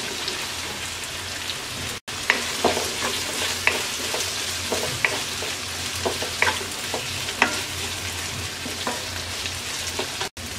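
Cubed potatoes frying in a pan, a steady hissing sizzle dotted with little pops and occasional stirring clicks, close and continuous.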